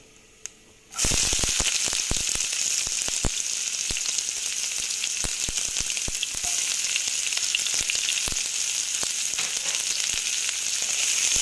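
Chopped onion drops into hot oil already seasoned with nigella seeds, and after a quiet start a loud, close, continuous sizzle bursts up, crackling steadily with scattered sharp pops and stirring noises.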